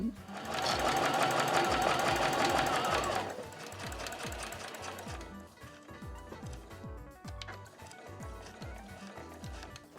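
A home sewing machine stitching the lining of a quilted tote bag, a steady close whirring drone at first, then a slower rhythmic run of mechanical needle clicks continuing to the end.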